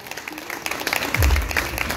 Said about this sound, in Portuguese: Aplauda o Senhor da glória.